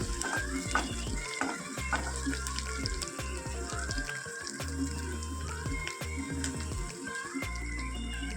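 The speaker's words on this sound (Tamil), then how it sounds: "உப்பு சேர்த்ததுக்கப்புறம் நல்லா வதக்கி விட்டுக்கோங்க" Salted onions for a bhindi fry sizzle as they are sautéed, with repeated spatula scrapes and clatter against the pan in an uneven rhythm, close and fairly loud.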